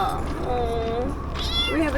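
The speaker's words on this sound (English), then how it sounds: "It's a friendly little kitten." A friendly little kitten meows several times in quick succession, close and clear, with a person speaking around the cries.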